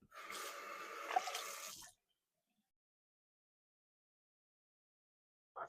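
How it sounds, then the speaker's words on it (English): A brief splash of running water wets a W.H. Morley & Sons experimental shave soap bar for about two seconds. It then stops abruptly into near silence, followed by a faint short splash at the very end. "I'm gonna wet the bar."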